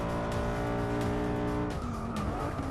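Race car engine howling at high revs with tires squealing in Forza Motorsport 6, racing at night at Spa-Francorchamps; loud and steady, with the engine note shifting partway through.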